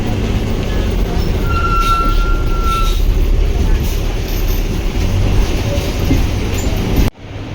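A metro train pulls into platform 1 of a station on the line toward Whitefield Kadugodi, with a loud, steady rumble of wheels, a faint brief squeal, and a voice faintly audible beneath before the sound cuts off abruptly.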